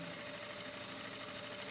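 A sewing machine stitches close to a zipper on a toiletry organizer bag, giving a steady, continuous motor whir at close range with no talking over it.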